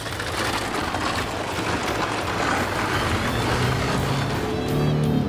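A Volkswagen Amarok ute with a 2-litre bi-turbo TDI diesel engine drives along, giving a loud, steady broadband roar of engine and road noise that swells slightly toward the end.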